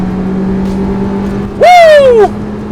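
A 2020-era MG ZR or ZS hatchback engine revs hard to high rpm, a loud, close burst of under a second whose pitch sweeps down, rising over a steady low cabin drone, with no talking.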